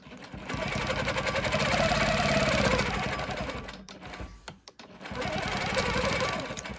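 A sewing machine quilting stitches along a ruler edge at a quarter-inch distance, running in a fast, steady whir for several seconds, pausing briefly, then starting again, loud and close with no talking.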